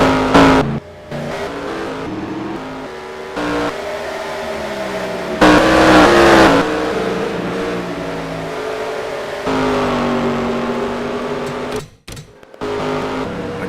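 Race car engines roar through the Sonoma road course in the NASCAR Racing 2003 sim with a 2007 mod. Loud, high-revving cars pass by in waves, rising and falling with shifts and braking, and no voices are heard.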